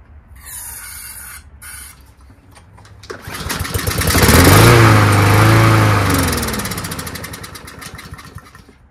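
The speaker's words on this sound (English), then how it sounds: "Okay, starts with starting fluid, which is good. Engine sounds really good." A Honda-powered Troy-Bilt TB240 self-propelled lawnmower, with a sticking choke and a suspected dirty carburetor, is sprayed with starting fluid. After a few pull rattles it fires and revs up loud and close, then settles into a steady running drone.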